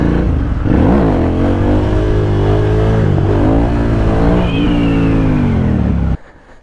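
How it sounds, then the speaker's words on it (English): A Talaria MX4 electric dirt bike on a test ride gives off a close, steady electric motor whine that rises and dips with throttle, then cuts off abruptly near the end. "I'm gonna test ride this Talaria."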